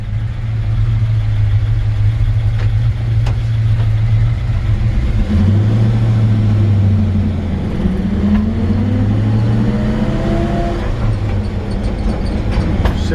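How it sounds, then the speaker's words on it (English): An original 1948 Ford F1 pickup truck's engine runs loudly and steadily up close, its deep hum sliding up and down in pitch as the revs change, with no talking. "Touch the starter button and she fires right up."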